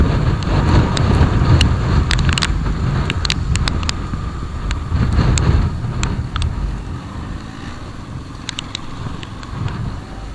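Strong wind rushing along a hill road in the Meghamalai hills, continuous loud buffeting roar against the microphone with short crackling gust bursts, easing slightly toward the end, no voices.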